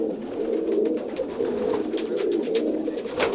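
Pigeons coo in a low, continuous, layered murmur from a loft flock, fairly close and steady throughout, with no voices.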